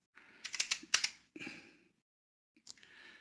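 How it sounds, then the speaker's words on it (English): Bursts of typing on a computer keyboard while searching for the Ichimoku study in trading software, a quick flurry of close, crisp key clicks, a pause, then a few more keystrokes, with no talking. "I just start typing in Ichimoku."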